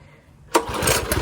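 A minibike's small engine catches abruptly after a stretch of near silence, settling into a loud, rapid, sputtering run close by.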